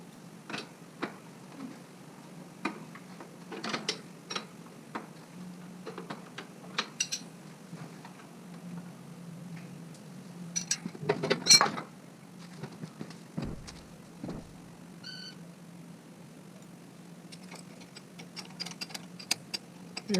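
Pivot bolts with nylock nuts are snugged down against thrust washers on the leading-link fork of a Honda Africa Twin sidecar rig. Sparse light metallic clicks and ticks sound over a low steady hum, with no talking.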